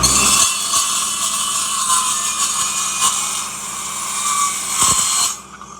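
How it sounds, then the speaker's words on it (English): A Milwaukee metal-cutting saw slices through angle iron, a loud, steady, high-pitched grinding whine that holds for several seconds before the blade spins down at the end. "now let's cut angle iron"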